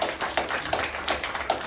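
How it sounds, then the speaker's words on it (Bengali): Several sharp claps tap out in a steady rhythm, close and fairly loud, as a brief round of applause for a film crew's director of photography. "সো আমার মনে হয় ওর জন্য একটা জোরে হাততালি হয়ে যায়।"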